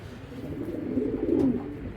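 A pigeon gives a low, throaty coo that swells and rolls for a couple of seconds, close by, with nothing else around it.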